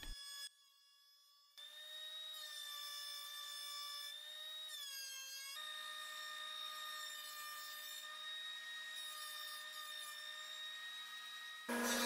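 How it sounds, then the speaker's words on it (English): A bandsaw resaws wooden boards, cutting the pieces in half. A quiet, steady mechanical whine with tonal hum runs throughout, with a brief dip near the start and small shifts in pitch as the blade works through the wood. "set up the bandsaw to do some resawing. We'll cut these pieces in half."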